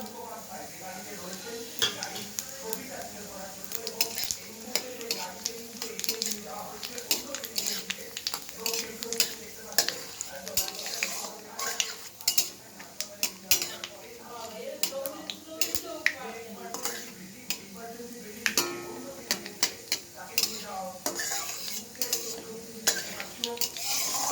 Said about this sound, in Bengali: এবার আমি এতে দেবো কালো জিরে আর শুকনো লঙ্কা ফোড়ন।